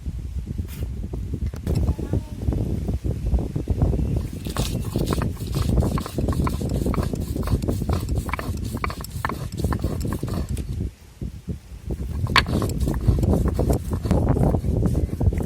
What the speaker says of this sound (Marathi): मिरच्या लसूण आणि जिरे मी एकदा एकदम बारीक करून घेणार आहे